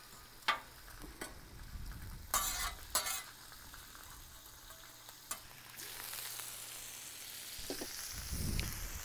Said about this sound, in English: Turn the bacon back on low just to kind of heat it up a bit.